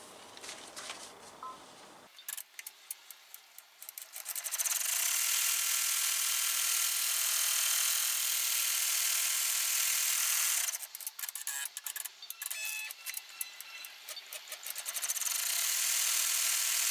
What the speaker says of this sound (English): we're going to do a final sew around our window, and then it's going to do our hemline sew